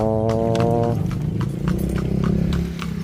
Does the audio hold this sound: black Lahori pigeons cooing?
no